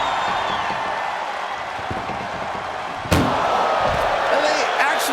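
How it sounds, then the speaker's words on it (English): In the WWE 2K25 ambulance match, a single sharp slam of the ambulance door cuts through crowd noise and commentary midway. Background chatter continues before and after the impact. "Trying to at least slam one door shut."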